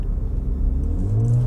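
VW Polo GTS engine revving up, a close deep rumble whose tone climbs steadily toward the end as it accelerates, loud and continuous with no talk.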